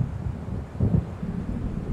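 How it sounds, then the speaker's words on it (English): Thunder of an approaching storm in the video game Alan Wake Remastered: a low, broad rumble swells near the middle amid steady wind-like noise, fairly loud and distant, with no voices. "It seems there's a storm coming."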